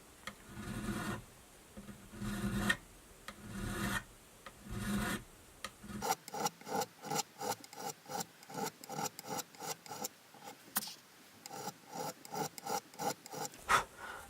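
A metal file rasps across the frets of a Charvel guitar to level them. Steady rubbing gives way to a fast, even run of close, distinct strokes, with no voices.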